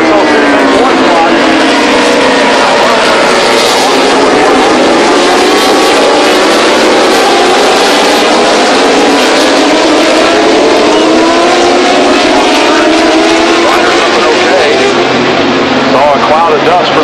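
MotoGP race motorcycles at Laguna Seca roar past on the start-finish straight, a loud, continuous high-revving engine wail with shifting pitch as the bikes pass, under a commentator's voice.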